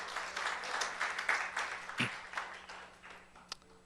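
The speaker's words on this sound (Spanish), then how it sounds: "Démosle ese aplauso al Señor." A church congregation claps for the Lord during a sermon, scattered uneven clapping that swells and fades with one sharp loud clap, fairly faint and thinning toward the end.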